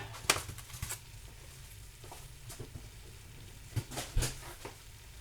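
Ground beef for Texas red chili browning in a pan, a soft steady sizzle with occasional stirring scrapes and clinks, fairly quiet and close, without talk.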